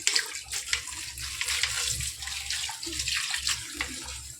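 Tap water runs steadily over mustard flowers being rinsed by hand, a continuous close splashing with small irregular surges as the blossoms are moved under the stream.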